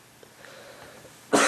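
One sharp, loud cough bursts out at the very end after a stretch of quiet background hum.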